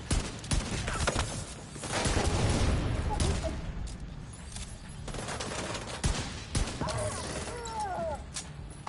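The Division 2 firefight: rapid bursts of gunfire and sharp shots crackle throughout, loud and close, with a player talking intermittently over the shooting.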